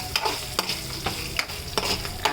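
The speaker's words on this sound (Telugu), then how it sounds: "అవి కూడా నూనెలో కొంచెం వేసేస్తే బాగుంటుంది" Roasted peanuts dropped into hot oil and stirred while making pulihora: a close, steady sizzle broken by several quick scraping stirs in an even rhythm, with no talking.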